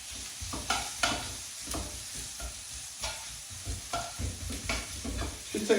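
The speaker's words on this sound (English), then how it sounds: "Now we're just going to caramelise them onions." Sliced onions caramelising in a frying pan, a soft continuous sizzle broken by irregular scraping and clacking as a utensil stirs them, close and moderately quiet.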